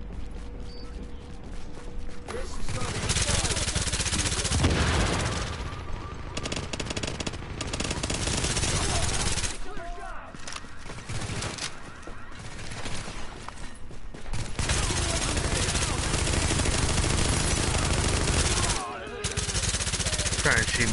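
Rapid automatic gunfire from a video game firefight rattles in long dense bursts, loud and close, with brief lulls in between and a voice speaking over parts of it.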